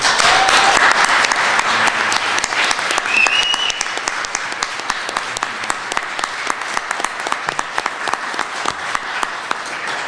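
Conference audience applause at a law and freedom event, a loud, sustained wash of many hands clapping that carries on steadily for about ten seconds with a few whistles.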